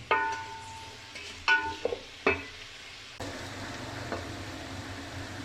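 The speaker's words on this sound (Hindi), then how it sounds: "प्याज को हम लाइट ब्राउन कर रहे हैं" Chopped onions frying in a pan with whole cardamom, cinnamon, cumin and cloves, heard as a soft steady sizzle with a few louder stirring scrapes and clatters early on, alone and close.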